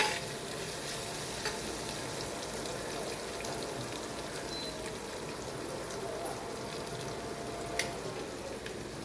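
Onion sautéing in a pan for a green masala pulao gives off a faint, steady sizzle and hiss that holds evenly throughout, with one small clink near the end and no voices.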